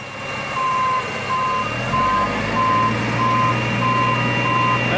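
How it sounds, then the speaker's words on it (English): A truck being raised up off its wheels gives off a steady series of regular reversing-style beeps over a loud, continuous engine or hydraulic rumble, close by, with no talking. "Look at the truck. It's getting raised up."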